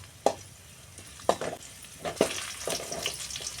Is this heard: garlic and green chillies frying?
yes